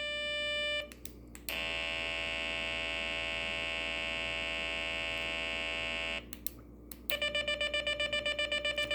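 Light-activated crack of the dawn alarm kit sounding: a loud steady electronic tone that briefly cuts out, returns at a slightly different pitch, then switches to a rapid pulsing beep, all over a constant mains hum.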